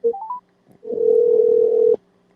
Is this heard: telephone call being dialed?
yes